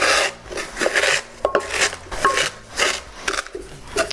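Cornflakes being crushed by hand for oven-baked cornflake chicken, a series of dry crunching, rasping bursts repeating in an irregular rhythm, close and fairly loud, with no talking.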